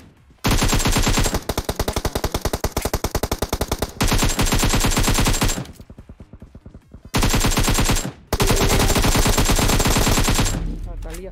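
Rapid automatic gunfire from PUBG Mobile bursts out in loud, sustained volleys, pausing briefly between strings of shots, with a short gap of quieter sound midway; close and dominant with no talk.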